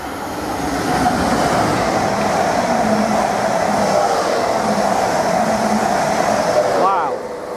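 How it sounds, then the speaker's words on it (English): A Greater Anglia Class 745 Intercity FLIRT electric train races past at speed on a test run toward London Liverpool Street, giving a loud, sustained rushing roar with rail rumble that drops away abruptly near the end. "we've got a Class 745 Intercity FLIRT unit about to race past"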